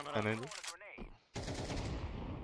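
Gunshots in Counter-Strike 2, a dense rattle of shots starting about halfway through after a short stretch of voice and game sounds.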